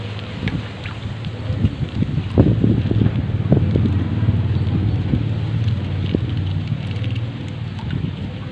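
Strong wind buffets the microphone in a continuous low roar, with gusty surges and rustling throughout.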